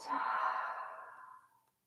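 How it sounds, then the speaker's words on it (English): A single slow, soft exhale during yoga, breathy and close, fading gradually over under two seconds. "And breathe out."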